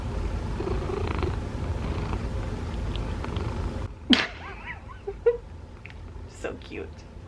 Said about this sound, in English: She's purring.